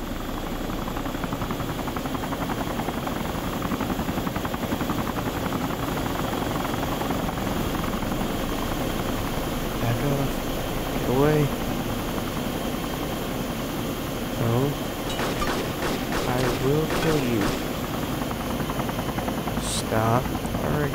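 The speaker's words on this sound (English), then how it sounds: "there currently seems to be a helicopter fight going on in this city" A helicopter in the video game DayZ Epoch drones steadily in the background with a constant engine and rotor hum, while someone talks intermittently over it and a few brief sharp noises break through.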